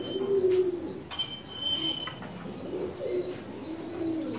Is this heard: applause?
no